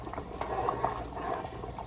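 Red wine gravy with onions and mushrooms simmering for brisket, a soft steady bubbling and popping that stays low and continuous.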